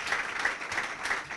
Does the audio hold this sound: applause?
yes